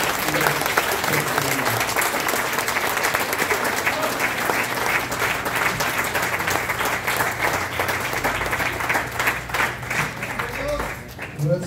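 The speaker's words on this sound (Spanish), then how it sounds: "Denle un fuerte aplauso al Señor, hermano" Dense applause from a church congregation at a fellowship gathering, sustained and loud for the full stretch with a low steady hum beneath, fading slightly near the end.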